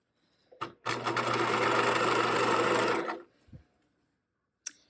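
Sewing machine stitching a rolled hem on a pair of shorts, running steadily for about two seconds at close range, with a few soft handling knocks before and after.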